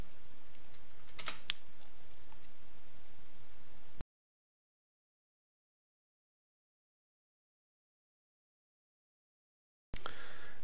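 Quick keystrokes on a computer keyboard click over a hissing background for a few seconds, followed by a stretch of dead silence and a brief return of noise at the end.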